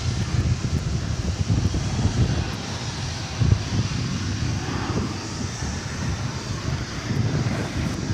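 Passenger airliner at DFW Airport, an American flight bound for Auckland, heard as a steady low jet-engine roar mixed with wind buffeting, holding fairly constant at moderate distance for the whole stretch.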